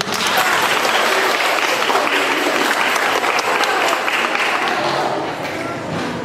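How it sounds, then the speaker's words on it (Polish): Sustained applause from an audience at a school talent show, a dense, loud wash of clapping that holds steady for several seconds before easing slightly at the end. "Ogromne oklaski dla nich."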